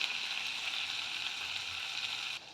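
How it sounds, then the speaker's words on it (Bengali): Prawn and pointed gourd curry with meat masala sautéing in a pan, a soft, even sizzle of frying spices that holds steady and then drops away abruptly near the end. "এর মধ্যে একটু মিট মশলা দিয়ে আর একটু ভালো করে কষিয়ে নেব"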